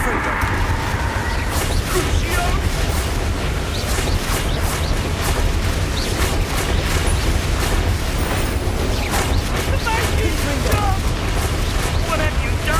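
A Confringo blasting curse erupts in Hogwarts Legacy combat, booming explosive bursts and crackling pops over a loud, constant roar of spell effects, with a voice calling out.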